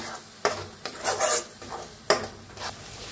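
A spoon stirs ground masala paste in a pan for an egg dish, giving a few close, scraping rasps and short sizzling swishes with brief pauses between strokes.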